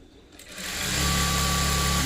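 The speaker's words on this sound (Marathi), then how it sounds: "असं व्यवस्थित ठेवून त्याला आपल्याला शिलाई द्यायची आहे" A sewing machine stitches the sleeve of an organza blouse, starting up and settling into a steady, loud, continuous whir that runs on alone.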